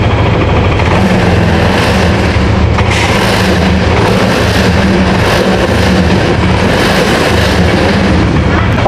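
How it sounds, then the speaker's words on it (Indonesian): Yamaha NMAX scooter engine idling steadily after repair of an earlier engine fault, a loud continuous rumble that holds unchanged throughout with no break. "untuk Yamaha NMAX All ini sudah nyala dengan normal ya"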